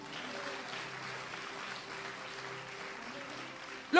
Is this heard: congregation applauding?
yes